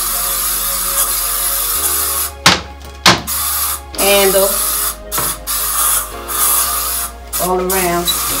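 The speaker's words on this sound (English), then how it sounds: "spray it with the Lysol" A few short hissing bursts from a Lysol disinfectant spray can in a hotel bathroom, interspersed with bits of talk and handling noise.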